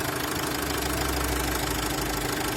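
A 2017 Renault Master van's engine idles steadily nearby, a constant low mechanical rumble with a faint ticking texture and no voices.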